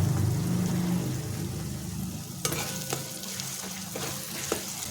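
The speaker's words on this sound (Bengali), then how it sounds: "আর এভাবে খুন্তিতে করে নেড়ে নেড়ে পেঁয়াজটা ভেজে নিলাম" Chopped onion frying in a pan for chicken hariyali curry, a steady sizzle with several distinct scraping knocks of a spatula as it is stirred, close and alone without talk.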